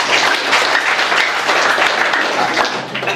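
A church revival congregation applauds loudly and steadily, a dense, close wash of many hands clapping with no break throughout.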